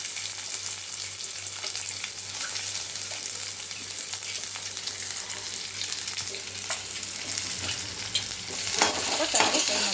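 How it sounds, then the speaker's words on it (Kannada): Onions fry in hot oil with a steady, dense sizzle while a spoon stirs the pan, the crackle holding loud and even and swelling slightly near the end. "ಇವಾಗ ಸ್ವಲ್ಪ ಈರುಳ್ಳಿ ಹಾಕ್ತಾ ಇದ್ದೀನಿ."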